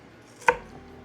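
A knife makes a single sharp chop through an onion on a cutting board while casserole is being cooked, a crisp isolated thunk in an otherwise quiet kitchen.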